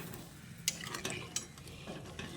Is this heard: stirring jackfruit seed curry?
yes